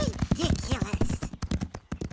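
Horses trotting outside in a cartoon give rhythmic hoof clip-clops with a whinny, under a speaking voice that continues through the first half, then the hoofbeats carry on alone.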